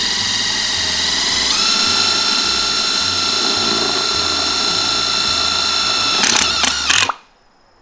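A power drill drives a reamer-tipped self-drilling screw through wood into steel, whirring continuously with a rhythmic mechanical chatter, ending in a brief strained grind before stopping abruptly.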